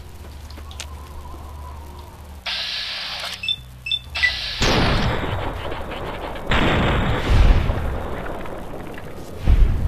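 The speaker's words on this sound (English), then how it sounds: "I hear bullets." Gunfire from a Fallout: New Vegas game fight, a run of sharp bursts and booms loud and close, with a brief voice near the start.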